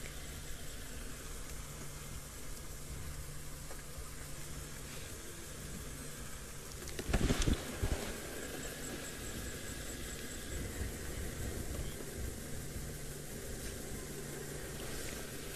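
A vehicle engine passes outdoors at sunset, rising briefly out of a steady background hiss and then fading back into it.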